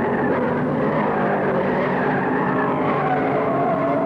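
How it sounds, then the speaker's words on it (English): A Chevrolet stock car skids and spins out in the third turn during a 1972 NASCAR race at Bristol, a loud, continuous roar of engines and tire noise that fills the whole stretch with no break. "Richard Childress, driving a Chevy, lost it in the third turn, spun all the way around, and decides to pit for new tires."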